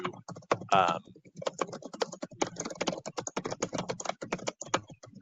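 Rapid clicking keystrokes on a computer keyboard, dense and irregular, close by, with a brief voice near the start.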